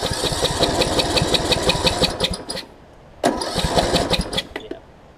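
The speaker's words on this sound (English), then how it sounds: "As you can hear, it's trying to crank, but it won't fire for me." A John Deere D110 lawn mower engine with low compression and a head gasket leak cranks in fast rhythmic chugs, pauses briefly, then cranks again without catching.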